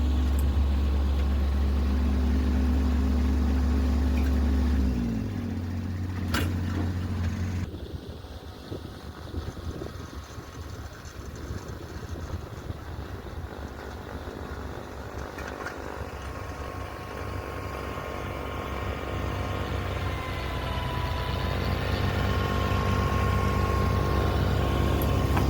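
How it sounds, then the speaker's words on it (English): A rear-mounted snowblower runs on a Kubota B2401 compact tractor, a loud steady engine drone that drops in pitch partway through, then churns and whirs before the engine note climbs again, with wind noise and no talk. "you can just let the snowblower run until it's clear before pushing the clutch in"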